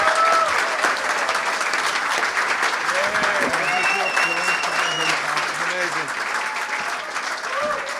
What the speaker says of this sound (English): give it up, a huge round of applause